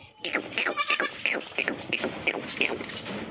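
Goats bleat close by while their young drink milk, a rapid series of short, overlapping cries, one after another with barely a pause.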